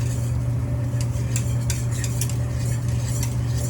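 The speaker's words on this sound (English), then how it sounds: "Just stirring it in." Ingredients being stirred in a pot while making popcorn, a continuous low hum under soft scraping and clinking of a utensil against the pot, repeated in short strokes.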